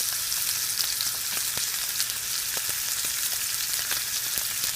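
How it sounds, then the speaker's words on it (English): A ribeye steak sizzles and fries in a pan of butter and extra virgin olive oil, a steady dense crackle with occasional sharper pops, close and loud with no talking. "I'm going to just spoon some of the butter and extra virgin olive oil mixture over the steak"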